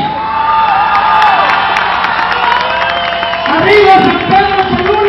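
A crowd at an outdoor celebration in San Pedro Cholula applauds and cheers for a singer, with whoops and shouts rising near the end over a music-like backdrop.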